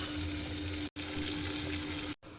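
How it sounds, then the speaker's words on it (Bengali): Pomfret fish frying in hot oil over a low flame gives a steady, close hiss of sizzling with a faint low hum beneath, broken by two abrupt brief cuts. "লো ফ্লেমে আমি ভেজে নেব।"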